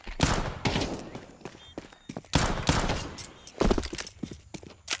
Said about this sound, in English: Exit's just gonna throw some bullets through the smoke, see what happens